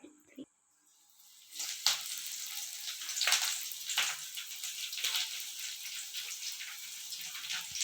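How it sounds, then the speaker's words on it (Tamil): Chillies, tamarind and coconut sauté in hot sesame oil for a pirandai thuvaiyal, a steady close sizzle with scattered bursts of frying that start after a brief quiet opening and run to the end. "எண்ணெய் வந்து நல்லெண்ணெயில் நல்லா வதக்கணும் எல்லாத்தையும்"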